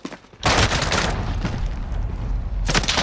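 Sustained automatic gunfire in Call of Duty: Modern Warfare, a dense, loud burst of rapid shots running for several seconds after a brief quiet start, with no talk over it.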